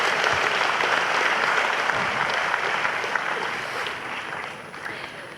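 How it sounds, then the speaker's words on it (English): A crowd at the 2016 presidential debate claps steadily in sustained applause, dense and even, gradually fading slightly toward the end. "Let's give them a round of applause as they do that."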